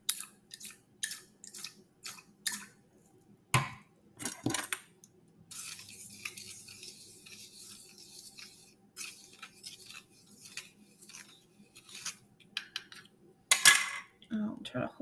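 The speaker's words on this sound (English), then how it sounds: "Then 10 drops of yellow food coloring into the beaker, and I'm going to stir after." A utensil stirs yellow food coloring into a beaker holding liquid over sand, giving sharp, close clinks and taps. The clinks come in a quick run, then sparser knocks, and a quieter scraping stretch follows.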